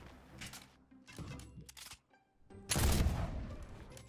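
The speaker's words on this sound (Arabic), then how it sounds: "انت تطلق طلقة عادية على ترجعك على ورا ولا على فوق؟" Bursts of gunfire from weapons in the Fortnite video game, a few quick volleys with short gaps, then a louder, denser burst near the end.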